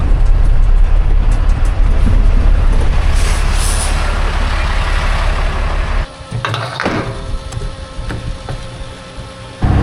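A semi truck on a farm during soybean harvest drives with a loud, steady engine roar, then the engine drops off and a sharp hiss of air brakes bursts out near the end.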